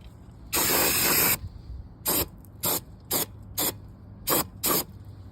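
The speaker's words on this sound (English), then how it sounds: "ignore the blower" An air blower fires at bare, worn metal being cleaned for paint: one long hissing blast of about a second, then five short sharp bursts, loud and close, with no talking.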